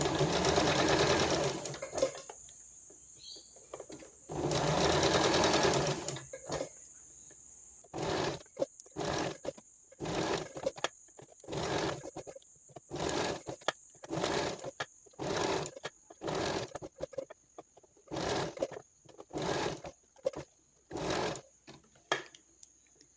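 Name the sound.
sewing machine stitching elastic fabric bowl cover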